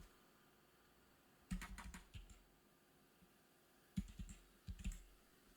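Two short bursts of quick typing on a computer keyboard, a few clustered key clicks each, separated by a quiet pause, close and fairly soft.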